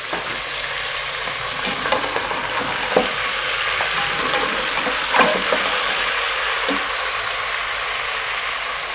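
Chopped onion, tomatoes and green chilies fry with mutton in a pot, a steady broad sizzle under occasional utensil scrapes and taps, close-up and moderately loud, without speech.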